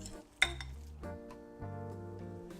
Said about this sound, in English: With a fork, try and press it in to smash it up even further